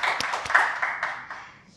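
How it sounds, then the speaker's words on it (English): Short round of audience clapping welcoming a guest at a cafe talk, moderately quiet, with scattered individual claps that fade out within two seconds. "Please can we give a round of applause?"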